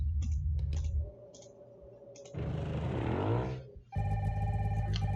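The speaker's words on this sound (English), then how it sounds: "Oh, we got a phone call." In the Nancy Drew Sea of Darkness video game, a telephone rings in bright repeated bursts, broken by clicking and a passage of rushing noise, with a continuous ringing tone returning at the end.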